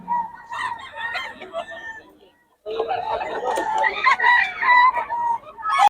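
Roosters at the Bocaue market crow and cluck close by in two bursts separated by a short pause, with busy crowd chatter underneath.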